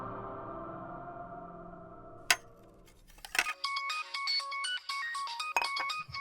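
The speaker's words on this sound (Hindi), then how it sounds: "पापा, फोन उठाओ, भैया का बात फोन है" A phone rings with a bright electronic ringtone of repeating melodic beeps, cutting in after a low rumbling background fades out, fairly loud and close.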